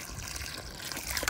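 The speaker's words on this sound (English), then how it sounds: "So you're gonna fill the hole a third of the way full with water" Water pours into a dug fence post hole in saturated ground, a close, steady splashing trickle lasting about a second and a half with no talk over it.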